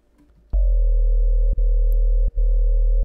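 Sustained bass synth patch made in the Serum synthesizer: a deep, steady tone that enters abruptly and holds loud, briefly dipping twice as notes retrigger.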